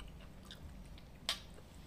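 Quiet chewing of crunchy fried food with one sharp crisp bite partway through and no talk.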